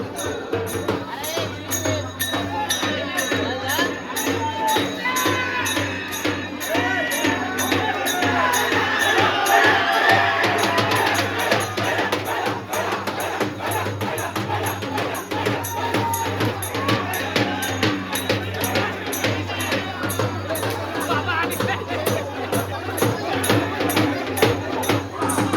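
Dense crowd noise at a Dahi Handi festival in Wadeghar, a steady loud wash of many voices and outdoor bustle throughout, rising slightly in the middle, with a constant low hum underneath.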